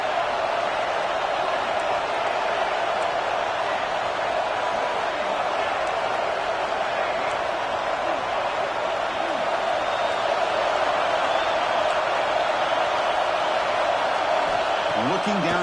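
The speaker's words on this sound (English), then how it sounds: "Third down, and the crowd really getting into it." A dense, steady crowd roar fills a football stadium on third down, sustained and loud without a break, with a commentator's voice running over it.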